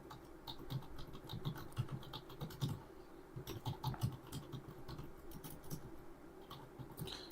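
Typing on a computer keyboard, with faint, steady key taps in uneven bursts over a low background hum, close but quiet.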